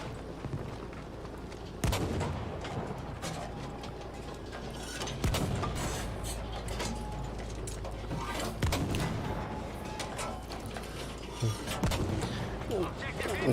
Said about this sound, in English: Firing blindly over at the resupply